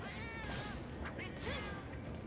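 A cat meowing in the Monster Hunter video game, a couple of short mewing calls over busy game background sound.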